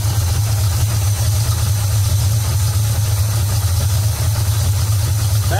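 A car engine with a Street Demon carburetor idling loudly and steadily close by during idle adjustment, a deep continuous rumble with an even, unbroken throb.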